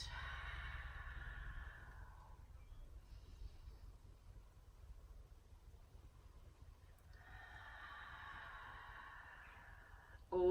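Slow breaths released during a qigong energiser exercise: two long, soft, airy exhalations close to the mic, the first at the start and the second near the end, with a quiet pause between and no talking.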